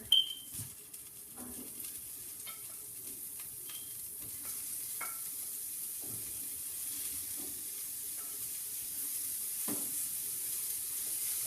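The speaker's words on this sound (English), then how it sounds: "put your sausages on there" Sausages sizzle quietly in a pan, a faint steady hiss broken by occasional soft taps and scrapes.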